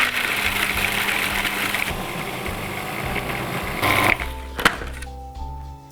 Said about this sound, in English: I'm going to put them into a food processor